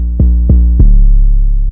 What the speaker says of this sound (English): I lowered the velocity of these three and slowly brought it up to make it sound grander